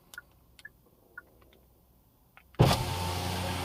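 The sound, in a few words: Hyundai Kona N-Line power windows opening via key fob unlock button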